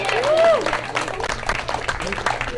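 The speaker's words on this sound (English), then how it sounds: "Clap if you want to hear like a funny poem." Audience at an open mic poetry festival clapping in a short burst of mixed applause, with crowd voices and chatter mingled in.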